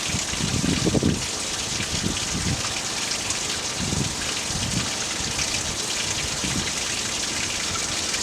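Water bursts out and sprays steadily after a tap is turned on, a loud continuous hissing rush with a few low gushing surges in the first seconds.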